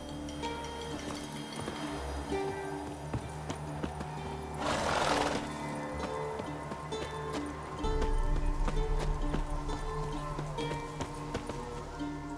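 Roach, Geralt's horse in The Witcher 3: Wild Hunt, with hooves clip-clopping and a neigh amid game ambience, mid-loud with a brief burst of noise partway through.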